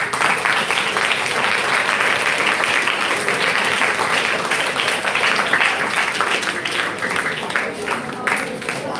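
Audience applause and cheering for the participants at a National Science Day science quiz, steady and loud throughout with a dense crowd of clapping hands and some voices mixed in.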